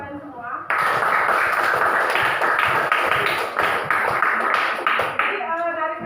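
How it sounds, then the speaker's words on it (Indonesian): A classroom of students applauding together, a steady burst of clapping lasting several seconds, preceded and followed by a teacher speaking. "Tepuk tangan untuk kalian semua."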